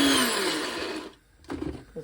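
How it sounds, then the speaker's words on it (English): A kitchen blender grinding dried fish roars loudly at close range for about a second, then cuts off, followed by brief clatter and short bursts of motor noise. "While I'm blending it,"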